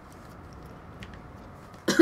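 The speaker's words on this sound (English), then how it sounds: "I'm getting over a cold right now, so I have a cough that I'm very self-conscious of." A single short cough comes at the very end, after a quiet stretch with faint background noise, from someone recovering from a cold.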